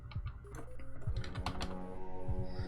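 Fingers type quickly on a computer keyboard, a close run of irregular, crisp key clicks.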